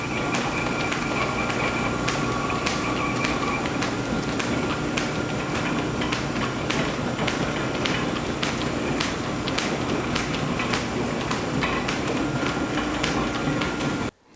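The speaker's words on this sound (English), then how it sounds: "this will shift the belt from the loose pulley to the tight" Steady mechanical clatter of belts and pulleys in a line shaft machine shop, with rhythmic ticking and slapping running continuously at close range before cutting off abruptly at the end.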